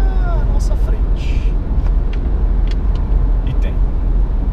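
Ford Ranger Limited V6 pickup running fast on a highway, with a steady loud engine and road roar throughout and a few faint higher clicks, as someone talks over it.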